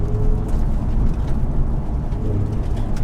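A sports car in Grand Theft Auto drives down a yard, its engine a loud, steady low rumble that holds throughout without any talking.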